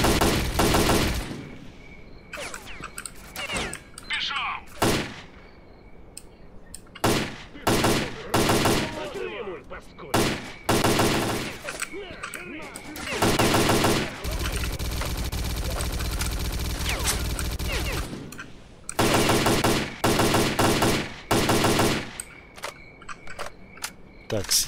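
Machine gun fire in the shooter game S.T.A.L.K.E.R. Clear Sky, in a hospital level: loud, close automatic bursts, repeated short volleys and one long sustained stream of fire, with a voice speaking between shots.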